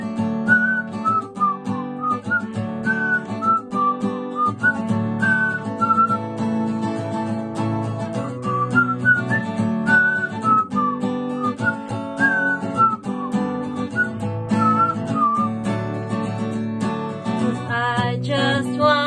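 Melodic whistling carries a song's tune over full accompaniment, steady and prominent throughout, with no talking.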